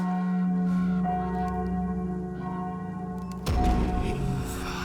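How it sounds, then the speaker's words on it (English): A big bell struck in the game We Were Here Forever, with a sustained ringing tone that fades before a second, louder strike near the end, echoing alone. "I bing bong the big bell."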